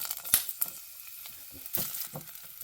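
Onion hitting about two tablespoons of moderately hot oil, giving a soft, steady sizzle with a few sharp crackles and spits near the start and a couple of clattery stirring bursts later.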